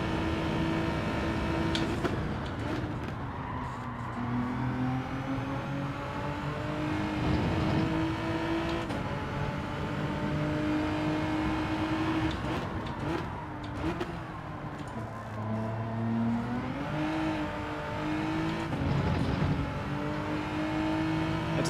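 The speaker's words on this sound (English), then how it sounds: "Had to slightly blip the throttle there." A race car engine in a racing video game time trial, roaring continuously with pitch sweeps through gear changes and quick throttle blips, loud and close throughout.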